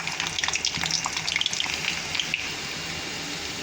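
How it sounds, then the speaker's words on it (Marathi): Minced garlic and cumin sizzle steadily in hot oil in a pan for a Maharashtrian capsicum and potato dry curry, a close, dense crackle with small pops throughout and no talking. "लसूण टाकायचं हे बघा त्या इथे ना चार पाच पाकळ्या लसूण मी बारीक कट करून घेतलेला आहे ते टाकून द्यायचं"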